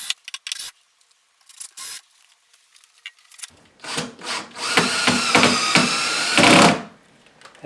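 A power drill drives screws into a sliding closet door channel in short bursts: scattered taps and scrapes first, then several close whirring runs building to a longer, louder one before stopping.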